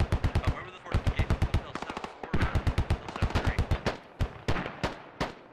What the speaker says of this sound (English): That is an actual mortar.